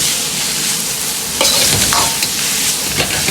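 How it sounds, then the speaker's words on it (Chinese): Shredded celtuce is stir-fried in a wok over high heat, a loud continuous sizzle with a few sharp scrapes and tosses of the spatula close by. "大火快炒几下，炒至莴笋稍微发软"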